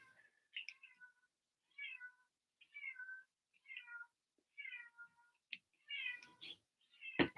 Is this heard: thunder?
no